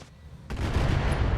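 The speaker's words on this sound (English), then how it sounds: "It'll fire more missiles. It's got those MMLs." The Thanatos mech launching MML missiles in RogueTech, a sudden loud whooshing volley that kicks in halfway and roars on as a dense rumbling barrage with no talk over it.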